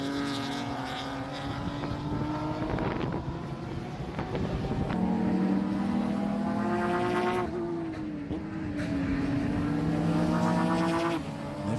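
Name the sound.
race cars on track at the Miami Grand Prix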